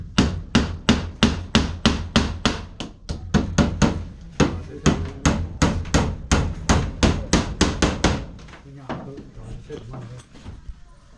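Sharp hammer blows strike wooden timber at a house construction site, about two dozen loud, evenly paced knocks in steady runs with brief pauses, close to the microphone, fading to scattered quieter taps near the end.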